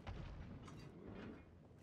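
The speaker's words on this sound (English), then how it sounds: "it's called explosive shot, but like the way it explodes is pretty satisfying" An explosive shot detonates in Dragon's Dogma: Dark Arisen, a dense rumbling blast that rolls on with booming, crackling bursts throughout, fairly faint in the mix.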